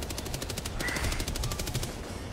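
A turret in the video game Helldivers 2 firing a rapid, even burst of gunfire, loud and close, running almost continuously for about two seconds with a brief gap partway through.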